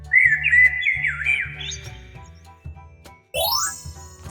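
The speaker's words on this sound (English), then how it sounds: "Starling." Starling call, a wavering, warbling whistle with slurred squeaky notes over a light repeating children's music bed, followed by a rising chime sweep.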